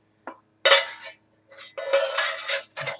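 Pieces of a metal camping cooking kit clank and scrape as they are handled and fitted together, coming in several close, bright bursts of rattling with short silences between them.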